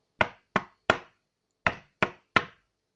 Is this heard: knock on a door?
yes